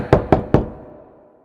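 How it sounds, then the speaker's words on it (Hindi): Three firm knocks on a wooden door in a fairy-tale setting, evenly spaced and close, each ringing briefly before fading into quiet. "थम्बलीना ने दरवाजा खटखटाया"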